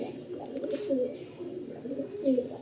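Pure Andhra breed pigeons coo softly in a loft in Kolkata, low throaty warbles repeating in gentle bursts from close by.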